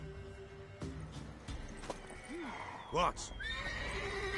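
A mare in The Witcher video game whinnies loudly in several rising, wavering calls, with hooves clip-clopping nearby, while people talk and background game music plays.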